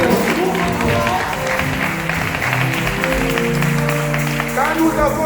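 Church congregation applauding at a church dedication, a sustained wash of clapping mixed with crowd voices and talk, steady and fairly loud throughout.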